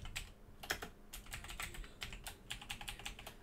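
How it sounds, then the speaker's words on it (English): Rapid, close keystrokes on a computer keyboard while typing in the vim editor, a dense run of crisp clicks with short pauses and no speech. "And in here, we'll just type in an example."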